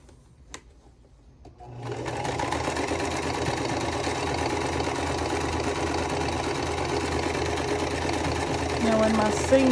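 A sewing machine stitches quilt block seams for a vintage block-along, starting after a quiet moment and then running in a loud, steady, close mechanical whir for several seconds without talk.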